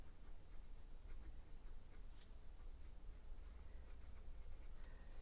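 Writing on paper, faint soft scratching strokes continuing steadily in a quiet room.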